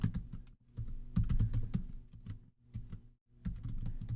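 Close, clattering keystrokes on a computer keyboard come in bursts with short pauses between them, entered into a loan and financing analysis sheet, with no voices.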